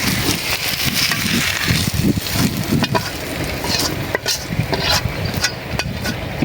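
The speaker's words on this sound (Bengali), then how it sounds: "হয়ে গেল পটল ভাজা, নামাইনি।" Pointed gourd stir-fried in a pan, giving a steady close sizzle broken by repeated sharp scrapes and knocks of a spatula against the pan.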